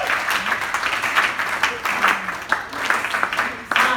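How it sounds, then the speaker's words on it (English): A crowd applauds steadily, a dense wash of clapping with a few louder bursts, some cheering or voices mixed in. "Please give a round of applause for this."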